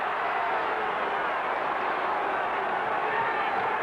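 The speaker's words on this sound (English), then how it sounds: "And the crowd getting a little restless here in Charlotte." Arena crowd at a Bulls versus Hornets basketball game in Charlotte, a steady, restless wash of murmuring voices throughout with no distinct cheers.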